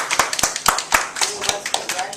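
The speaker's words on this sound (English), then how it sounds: "Let's give our guest a round of applause" A small audience applauds a guest after an interview, with quick, close, fairly loud hand claps in an uneven rhythm over about two seconds and no speech over them.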